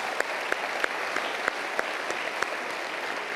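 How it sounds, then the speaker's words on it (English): Audience applause for award winners and nominees at a sports awards ceremony, a steady wash of clapping from a large crowd with a few sharper claps standing out, continuous throughout with no talk. "Let's give a round of applause for all of our winners and nominees this evening."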